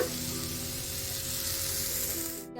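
Chickpeas and spices frying in a pan for a Kannada bassaaru, making a continuous close sizzle and hiss with faint stirring underneath, cutting off sharply at the end.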